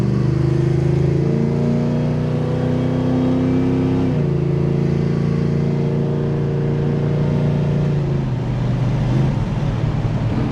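A car's radiator cooling fan runs steadily at close range, a constant whirring drone with a few faint shifts in pitch partway through, the engine idling underneath and no talk.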